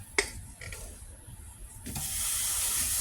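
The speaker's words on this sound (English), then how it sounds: "And we're just going to let that sear off." Seasoned ground beef hitting a hot sauce pot, a sharp initial tap followed by a soft crackle that swells into a steady, close sizzling hiss over a few seconds.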